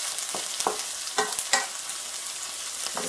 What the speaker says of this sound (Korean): 이 파가 기름에 익어서 이렇게 향긋한 파향이 올라올 때까지